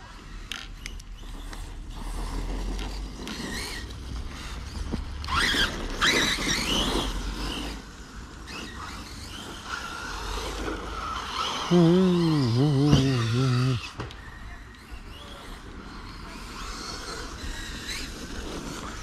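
A Hobao SST short-course RC car drives outdoors, its motor a steady rough noise with creaking and a wavering whine that rises near the end, running continuously without talk.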